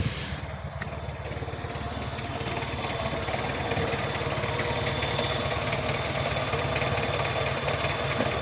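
A 1969 Morris Traveller engine, rebuilt, idling from cold at a low tick over, a steady low rhythmic chug with a mechanical whir on top, close and continuous with no talk.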